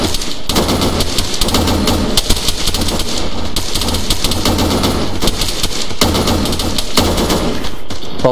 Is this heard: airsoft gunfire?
yes